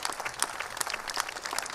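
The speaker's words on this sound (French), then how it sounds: "on peut l'applaudir" Brief, brisk applause from a church congregation at a thanksgiving Mass, many hands clapping together at a steady moderate level.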